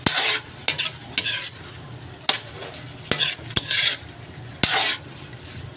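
Squid being stir-fried for adobong pusit, with repeated metal-on-pan stirring scrapes and clanks over a steady sizzle, close and fairly loud, no talking.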